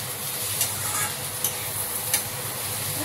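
Capsicum being stirred into fried beans and onion in a pan for a bread biryani, with a steady low sizzle and a few soft scraping strokes of the spoon, close by and without speech.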